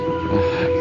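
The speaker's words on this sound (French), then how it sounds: "Un drôle de bruit, enfin, un vrai bruit de moustique par contre." A thin, steady mosquito-like buzz drones continuously through a short stretch of Darkstone, a PlayStation role-playing game, sitting over a low ambient hum with no speech.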